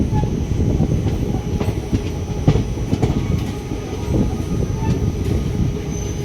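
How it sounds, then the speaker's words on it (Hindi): The 14118 Kalindi Express pulls out of Chaubepur station, a loud close rumble of rolling carriages with rhythmic wheel clatter and occasional squeals throughout. "गाइस, अभी हम लोगों की ट्रेन निकल रही है चौबेपुर से।"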